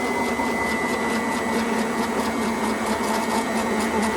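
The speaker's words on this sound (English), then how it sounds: "And I got the lathe on the slowest setting." A mini lathe turning at its slowest setting, about 365 RPM, with a knurling tool pressed onto the workpiece, makes a steady, close mechanical whir with a faint rhythmic ticking.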